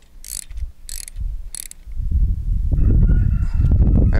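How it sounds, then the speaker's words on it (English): An 11/16 socket ratchet tightens a nut on a trimmer rack, giving three short bursts of clicking in the first two seconds, then louder, denser mechanical rattling and handling noise that fills the rest. "Grabbing a 11/16 socket. We're gonna go and tighten it up."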